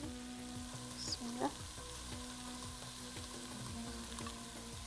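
Onions sautéing in a mix of olive oil and vegetable oil for a beef tagine with eggplant and chickpeas, sizzling steadily with a couple of brief stirring scrapes near the start.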